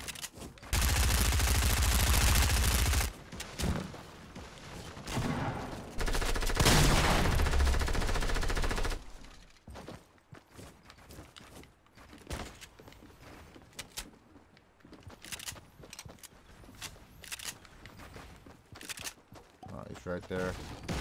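SMG bursts in the Fortnite video game on Nintendo Switch, two long loud sprays of rapid automatic fire followed by scattered single shots and clicks, with a player talking intermittently over them.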